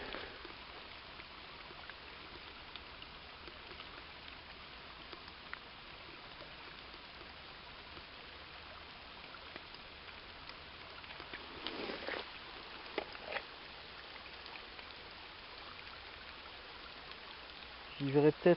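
A small stream flows with a faint, steady trickling hiss under light rain, quiet and continuous, with brief splashing and handling noises close by near the middle and end.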